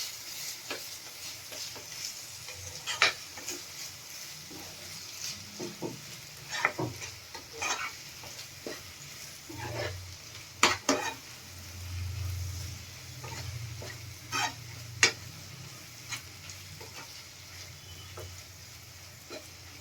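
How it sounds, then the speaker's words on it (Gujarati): Soft scraping and clinking of a spoon stirring paneer bhurji in a pan, irregular strokes over a faint sizzle, close and fairly quiet. "હવે આપણે બધું બરાબર મિક્સ કરી લેશું"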